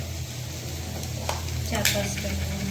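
Bay leaves and cloves fry in a small amount of oil for mutton momos, a steady close sizzle with faint stirring scrapes running throughout, no voices over it.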